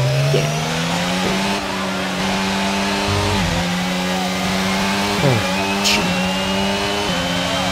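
Race cars from the F1 22 video game in online multiplayer, a steady high engine whine with repeated gear-shift steps and shifting pitch, loud and continuous throughout.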